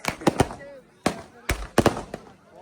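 Diwali fireworks burst outdoors at a gurdwara celebration in Italy: a string of sharp, loud cracks and bangs in irregular clusters, with crowd voices between the blasts.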